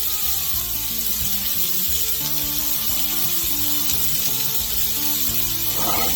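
Party appetizers sear in a pan on a stovetop, giving a continuous close sizzle and hiss with scraping rubs throughout and no talk.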